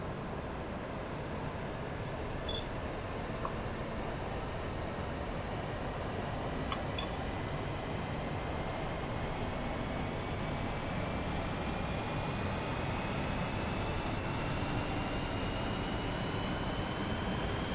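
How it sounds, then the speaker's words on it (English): An Airbus A320neo auxiliary power unit spinning up in a flight simulator, a steady airy turbine whine and rumble that slowly rises in pitch, heard alone with faint clicks along the way. "Start the APU"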